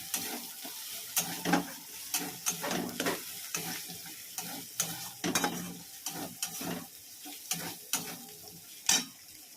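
Ginger garlic paste frying in a hot pan while being stirred, giving a steady close sizzle broken by the scrape and clack of the spatula in irregular strokes, with no talk.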